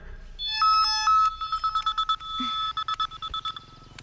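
Mobile phone ringtone for an incoming call, a bright electronic melody of quick repeated tonal beeps in short rhythmic bursts, clear and fairly close against a quiet background.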